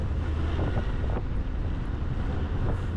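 Constant wind buffeting the microphone while riding a motorcycle in cold weather in Ireland produces a heavy, rumbling roar that continues without a break, with a faint hiss of open water underneath.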